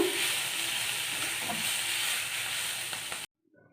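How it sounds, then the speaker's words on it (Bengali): Fried shrimp and taro stolons sizzling steadily in a pan while being stirred and sautéed together, a continuous close frying hiss that cuts off abruptly near the end. "এবার ভেজে রাখা চিংড়ি মাছগুলো দিয়ে দেবো, দিয়ে একসঙ্গে ভালো করে কষে নেব।"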